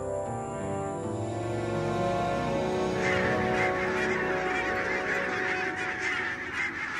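Tens of thousands of geese gathered on the southwestern coast of Scotland in winter, honking continuously in a dense, overlapping chorus that swells and grows busier partway through, with no talk.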